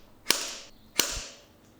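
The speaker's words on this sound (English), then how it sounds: "I'm using my automatic center punch to punch the 3 holes" Two sharp, loud metallic snaps about a second apart from an automatic center punch marking holes on a 60 Series vehicle for a Safari snorkel install, each a crisp click with a brief ringing tail, in an otherwise quiet space.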